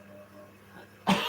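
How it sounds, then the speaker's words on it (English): A single short, sharp cough from a person, loud and close, bursting out abruptly after a stretch of quiet low background hum. "Sorry, I'm coughing in the background."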